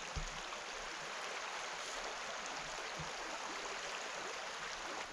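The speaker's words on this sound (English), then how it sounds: "Sound of running water is just so soothing to me." A stream runs at night in a wooded research area, giving a soft, steady hiss of flowing water with a couple of faint low knocks and no voices.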